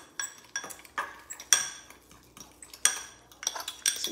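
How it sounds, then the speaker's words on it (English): Peanut sauce made with powdered peanut butter and light soy sauce is stirred in a bowl with a utensil, giving a run of light clinks and taps against the dish, close and fairly quiet, without speech. "And I am going to just go ahead and mix that"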